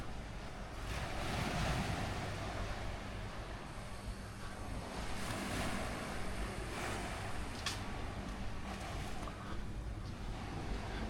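Waves break and wash continuously onto a beach at high tide in Hua Hin, Thailand, a loud, unbroken surf roar with wind buffeting the microphone.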